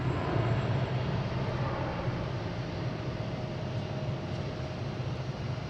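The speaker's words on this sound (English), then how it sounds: "We have United Airlines, E175, heading to" A United Airlines Embraer E175 jet airliner at Boston Logan airport gives off a steady broad engine roar that stays loud and even throughout.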